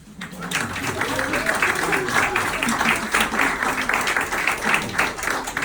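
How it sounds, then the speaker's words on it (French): An audience applauds Cécile and Nicole in a French-speaking gathering, a steady wash of crowd clapping that swells in at the start and holds evenly throughout, with faint voices murmuring underneath. "Et je pense même qu'on peut les applaudir."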